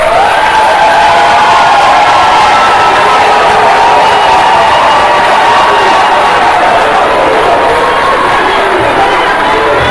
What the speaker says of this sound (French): je vous prie d'applaudir Monsieur le sélectionneur Padou